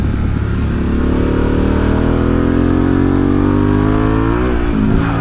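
A 2022 Harley-Davidson Pan America 1250 Special's engine pulls hard under throttle, its loud, close roar climbing steadily in pitch over several seconds with heavy wind rush and no speech.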